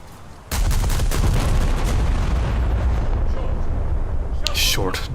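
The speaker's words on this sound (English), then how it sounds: "Our rear guns will still have a target, but our front guns will hit the island" Heavy guns of the battleship HMS Barham in a naval video game open up with a sudden loud boom, followed by a long rumbling roar of shellfire and impacts, with a voice speaking over the din.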